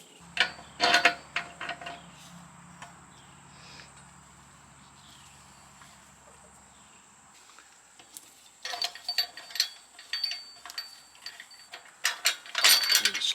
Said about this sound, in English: unscrew the entire unit from the threaded part right here